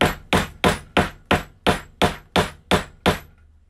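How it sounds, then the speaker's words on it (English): Hammer striking leather in a kids' leathercraft project, ten sharp, evenly spaced blows about a third of a second apart, close and loud, with no talking. "let's go right there and hammer it hard"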